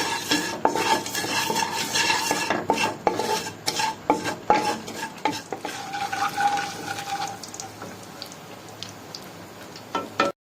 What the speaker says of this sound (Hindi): तेल जाएगा, मसाले जाएंगे, इनको हल्का सा भूनने में।